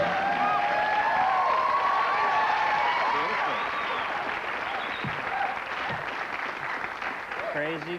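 Studio audience at a late-night talk show breaking into loud, sustained applause and cheering, dense clapping that fades slightly toward the end, with voices mixed in.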